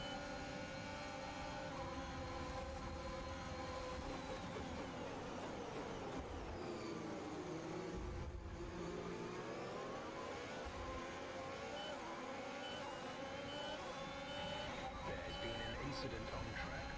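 Formula 1 race cars in F1 2021 at the Austrian Grand Prix, engines revving loud and continuous with whining pitch sweeps as cars brake and accelerate into turn 1, with a voice talking over them.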